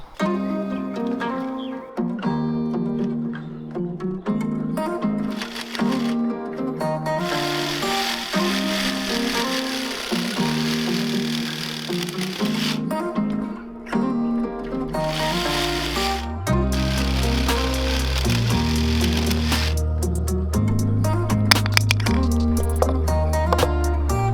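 Skateboard truck coper rails are cut out with a power tool, giving a loud, continuous whirring with shifting tonal pitches and harsher bursts as the blade works through the material.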